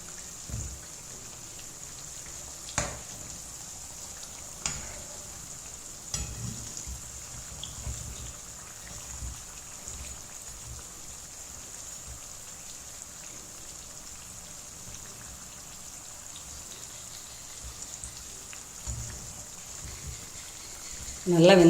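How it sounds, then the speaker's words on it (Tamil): Chandrakala, a Deepavali sweet, fries in hot oil, giving a faint, steady crackling sizzle with scattered sharp pops and a louder burst of bubbling at the end. "அதனால தான் கொஞ்சம் லென்த்தியாக அதை பொரியறதை காமிச்சிருக்கேன்"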